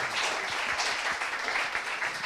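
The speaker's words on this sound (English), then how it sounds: "Let's give these women a clap." Audience applause for a group of women at a live community event, a steady broadband patter of clapping lasting a couple of seconds at moderate level, with no talking over it.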